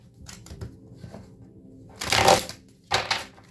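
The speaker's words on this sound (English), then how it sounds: "Let me shuffle these again." Tarot cards are shuffled by hand in two short riffling bursts, each under a second, with quiet handling noise between them. No one speaks.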